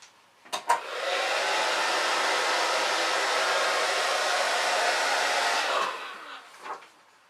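A handheld hair dryer blows steadily and loudly for about five seconds, switching on after a couple of brief clicks and then cutting off, with a soft thump following.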